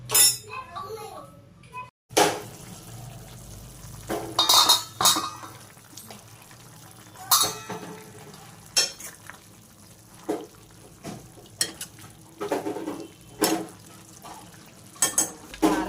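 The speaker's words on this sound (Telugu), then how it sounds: "ఒక్కసారి కలిపేసుకొని మూత పెట్టేసుకోండి" Chicken curry being stirred in a pot, with spoon clinks and scraping against the metal in short irregular bursts, and a lid set on top near the end; a voice talks over parts of it.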